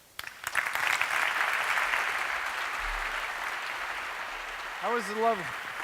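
Audience applause fills a conference hall after a talk at EmTech España 2013, a steady, dense clapping that holds throughout before a brief voice-like tonal sweep near the end.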